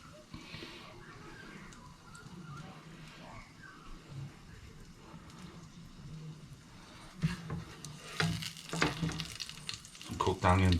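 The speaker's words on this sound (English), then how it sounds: "Let's get some bacon on that." Bacon sizzles in a pan for an Aussie burger, a soft crackling hiss with scattered pops, building to louder scraping and clattering bursts near the end.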